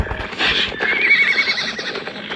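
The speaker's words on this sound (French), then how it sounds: "Oh, un cheval." Horse neighing in a western camp setting, a loud whinny that rises and wavers for about two seconds, with faint hoof clip-clop and no talk over it.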